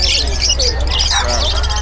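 Many birds squawk and chirp together at the Bocaue pet market, a loud, dense, overlapping chorus of calls with a constant low hum underneath.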